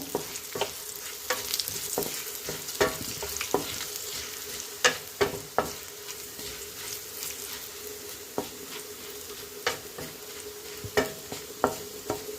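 Bitter gourd frying in a pan over high heat, a steady sizzle broken by irregular scraping clicks and taps as the pieces are stirred and turned, with no talk.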